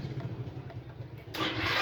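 A Yamaha Mio i125 scooter engine fires up as the ignition key is turned on, a low rumble that suddenly rises to a louder, steady running roar near the end, close by with no talk.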